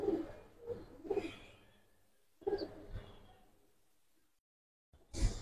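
Giribaz pigeons in a loft giving a few soft, low coos in short separate bursts, fairly close, with quiet gaps and a sudden louder rustle near the end.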